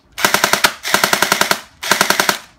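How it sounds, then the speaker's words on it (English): A CYMA JD 002 airsoft gun fires full auto in three loud, close bursts of rapid, even shots, each burst lasting about half a second with short gaps between, and no voices. "setiap kali saya pegang trigger ni, dia memang shoot terus"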